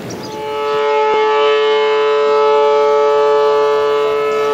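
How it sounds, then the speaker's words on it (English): A fire alarm siren tested at noon on a Saturday, a loud, steady wailing drone that swells and holds outdoors near a backyard garden, with a faint knock early on and no talk. "that's the fire alarm they just tested on Saturday at noon"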